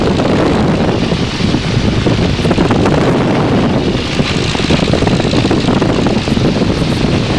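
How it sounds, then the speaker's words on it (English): Southwesterly wind buffets a glider in flight over Blackmore Vale, a steady, loud broadband rush and rumble of air that holds without a break throughout. "We've got the southwesterly wind"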